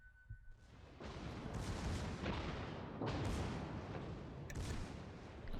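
The British battleship Warspite's heavy guns firing in World of Warships, a deep booming salvo that swells into a long, dense roaring rumble with repeated surges, loud and close.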